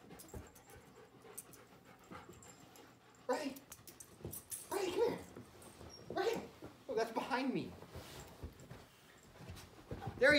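A puppy whimpers and pants nearby, soft high whines in short bursts while people chatter excitedly over it.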